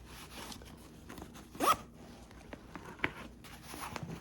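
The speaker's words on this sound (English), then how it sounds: "It's got a zipper pocket up here at the top" A zipper pocket at the top of an Agilite AMAP III pack is pulled open in one quick, close rasp, with a few soft fabric rustles and small handling clicks before and after.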